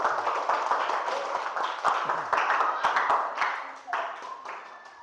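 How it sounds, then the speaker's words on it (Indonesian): Classroom applause from a group of students, a dense steady patter of many hands clapping close by for about five seconds, thinning toward the end. "Oke, tepuk tangan."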